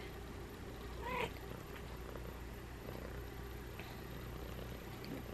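A female cat purrs softly and steadily in a quiet room, a low continuous rumble close by with no talking.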